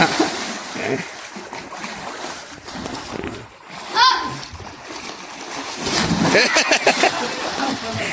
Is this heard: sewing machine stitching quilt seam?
no